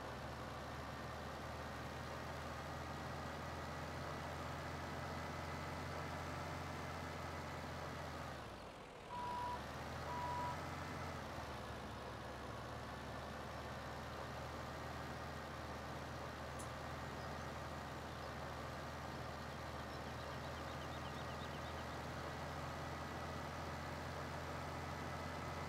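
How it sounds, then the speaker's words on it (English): A truck in Farming Simulator 17, its engine droning steadily through the whole stretch with a brief dip in the middle and faint reversing beeps near that dip, touchy with the throttle, no talk. "So that truck is really touchy with the throttle"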